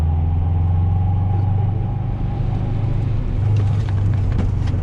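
A 1995 Acura Integra GSR's engine hums steadily from inside the cabin as the car drives through a corner, a loud continuous rumble with a slight rise in revs toward the end.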